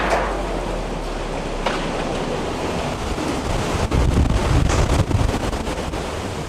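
Strong wind roars steadily against the microphone outdoors in a town, a loud, continuous rushing blast that swells slightly toward the end.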